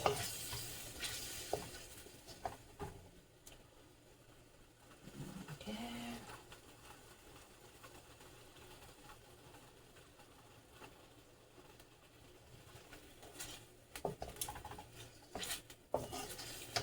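Onions being cooked down in a pan for a veggie stir fry, a faint low sizzle under intermittent spatula stirring and scraping against the pan, with louder clatter near the start and end.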